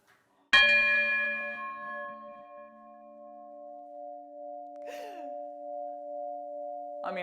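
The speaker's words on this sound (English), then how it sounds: "since this is the oldest working bell in London, let's give it a go" London's oldest working bell, a guild church bell, is struck once, giving a loud clanging onset followed by a long, steady humming decay that rings on for several seconds, with a brief faint scrape partway through.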